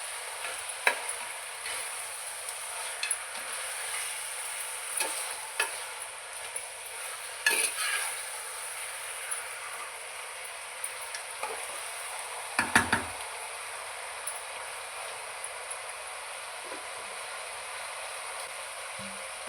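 Chicken curry in a native-style saaru simmers in a pan, giving a steady close sizzle with scattered stirring scrapes and a louder clunk partway through, with no talking.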